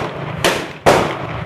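Two loud, sharp gunshots from a .44 Pietta 1851 Confederate Navy black-powder percussion revolver fired with Remington No. 10 caps outdoors, each a close crack with a short decaying tail, a bit under half a second apart.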